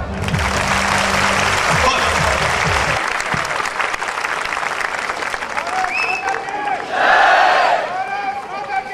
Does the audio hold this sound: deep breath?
no